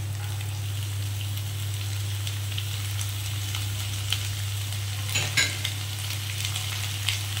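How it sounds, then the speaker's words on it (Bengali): Onion frying in oil for a light katla fish curry, a continuous close sizzle with a low steady hum beneath and a few brief stirring clatters near the end, no voices. "এবারে আমি আস্তে আস্তে অন্যান্য জিনিসগুলো দেবো, যেমন পেঁয়াজটা আমি দিয়ে দেবো।"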